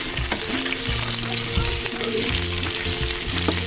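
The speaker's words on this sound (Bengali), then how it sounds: "এই মাছগুলো আমি এবার একে একে উল্টে দেব।" Fish frying in mustard oil in a pan crackles and sizzles steadily as the pieces are flipped one by one, with soft clinks and scrapes of the utensil among the constant hiss.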